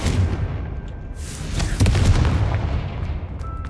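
Explosive Confringo spell cast in the game Hogwarts Legacy, a deep booming blast with sharp crackling bursts that swells mid-clip and rumbles on over a low background, moderately loud, without speech.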